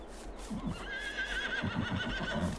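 A horse in Farm Sim 22 whinnies in a high, wavering call over soft hoof clops and low background noise, brief and fairly close.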